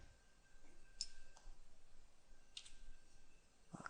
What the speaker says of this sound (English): I'm going to right click and save the object.